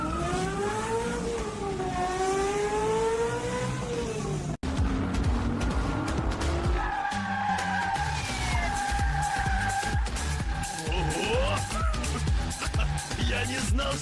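Cartoon car tears away in a chase, engine revving and rising in pitch, a brief cut, then more revving, squealing skids and siren-like wails with clattering hits, loud and busy.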